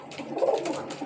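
Pigeons cooing inside a coop where hens sit on eggs, a soft continuous run of low throaty coos from nearby birds with no talk over them.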